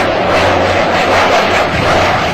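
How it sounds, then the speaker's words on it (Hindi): A Rafale fighter jet in flight gives a loud, continuous broadband roar of jet engine noise that fills the whole short stretch without breaks. "भारत के vice air chief marshal RKS Bhadauria Rafale विमान उड़ाते दिखाई दिए"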